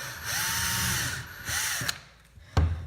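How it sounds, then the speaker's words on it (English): Power drill boring out a part on a racing lawn mower build, two rising and falling whirring bursts close by, followed by a sharp clunk at the end. "So let me drill that out a little better."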